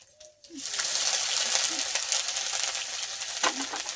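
Ginger, green chilli and panch phoron spices frying in mustard oil for cauliflower singara filling, a steady close sizzle starting abruptly and holding with a few light clinks.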